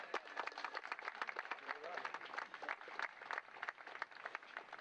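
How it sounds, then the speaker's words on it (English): Applause from an audience at a mixed doubles charity tennis tournament, honoring the referee: dense, steady clapping from a moderately near crowd lasting throughout, with some voices mixed in. "let's start off by giving a nice round of applause to our referee, Mr. Russ Morgan."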